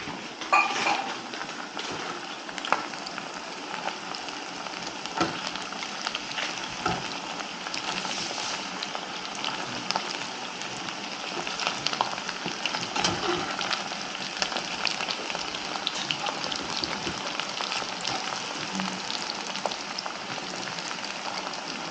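Pieces of Japan-style chicken fry in a pan with a steady, dense crackling sizzle that fills the whole stretch evenly, close and moderately loud, with occasional sharper pops and no talking.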